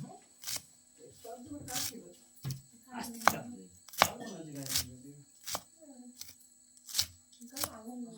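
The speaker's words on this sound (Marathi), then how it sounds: "जेवढे बारीक कापता येतील तेवढे कापून घ्यायचे" A knife finely chops aakur wild greens in a village kitchen, making sharp, close, irregular knocks about a dozen times, with someone talking in between.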